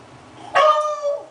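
A beagle gives a single sharp, close bark at leftover pizza, its howling tone trailing off briefly afterward, with no talk over it.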